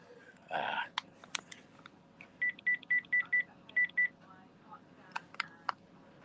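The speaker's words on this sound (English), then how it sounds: "I've got to phone Joe" A telephone keypad sends a run of eight short, evenly spaced dialing tones. Scattered clicks and soft breathy, whisper-like sounds come before and after the tones.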